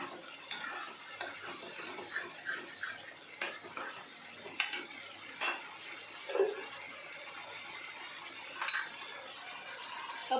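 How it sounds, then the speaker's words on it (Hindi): Chicken frying in a pan with spices while being stirred, with scattered scraping and clinking of a utensil against the pan over a steady sizzle. "अभी इसे और भी फ्राई करना है तो हम थोड़े मसाले डाल के फ्राई करेंगे इसे।"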